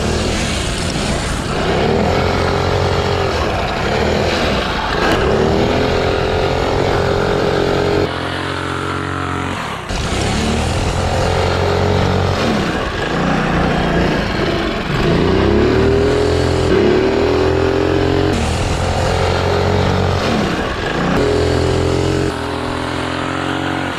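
A mini ATV powered by a Predator 212 engine on racing slicks runs nearby, its small single-cylinder motor repeatedly revving up and dropping back as it accelerates, loud and continuous with no talk.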